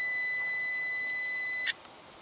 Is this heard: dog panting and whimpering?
no